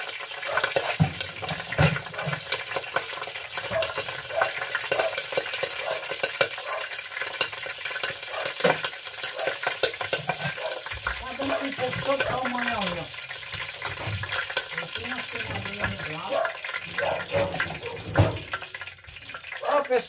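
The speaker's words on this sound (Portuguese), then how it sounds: "tem mais peixe aqui para fritar" Steady crackling sizzle of fish frying in hot oil throughout, with a voice speaking intermittently over it.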